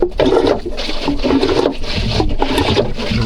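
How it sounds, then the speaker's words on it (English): Water rushing into a freshly overhauled Jabsco manual marine toilet bowl, a steady close gurgling fill with slight surges throughout. "Ooh, water's coming in."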